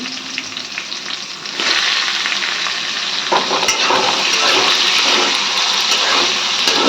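Chopped tomato is dropped into hot oil with bay leaf, setting off a loud, sudden burst of sizzling after a quieter frying start, followed by steady spitting and crackling.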